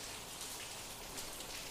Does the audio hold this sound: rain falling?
yes